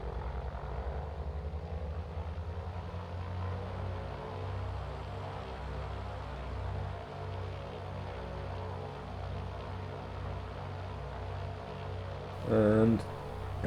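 AzurPoly TB-30 Epsilon propeller engine idles and hums steadily during a run-up in MSFS 2024, a constant droning whine near and moderately loud, with a short burst of chatter near the end.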